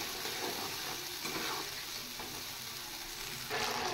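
A spice paste of ground cumin, coriander, ginger and green chili fries in a pan, giving a soft continuous sizzle broken by scrapes of stirring.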